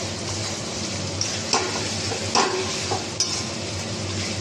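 Chicken sautéing in a pan, a steady sizzle with occasional spoon scrapes and light clinks of utensil against metal as the meat is stirred, close and alone with no talk.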